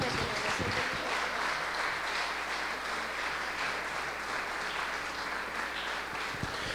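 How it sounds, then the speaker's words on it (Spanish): A church congregation at a Spanish-language service applauds in a sustained, even roar of clapping that fills the room, with some voices mixed faintly into the applause. "Denle un aplauso al Señor Jesús."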